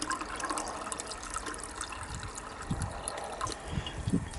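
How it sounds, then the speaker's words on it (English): Liquid trickles quietly into filters during gold recovery from old CPUs, a soft, irregular pouring and dribbling with a few small splashes near the end. "So just pour some more of that into the filters."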